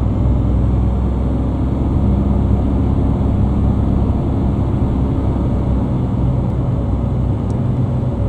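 A Ford Cargo 2429 truck engine in a driving game holds a steady, loud, low drone without pause, rumbling evenly the whole time on a mountain road, with no talk over it.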